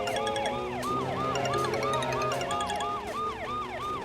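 Police vehicle siren in a movie scene wails loudly and continuously, its rising and falling sweeps repeating roughly every half second throughout, with no talk over it.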